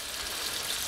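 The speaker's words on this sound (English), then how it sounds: "Anytime I have a fillet of fish like this and I'm frying it" Steady, faint sizzling of a sheepshead fish fillet frying in peanut oil, a soft continuous crackle with no talking.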